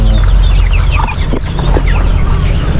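Chicks and fowl, including newly hatched chicks, in a backyard farm, with loud, close, overlapping clucks and peeps that run continuously against a constant rumbling background.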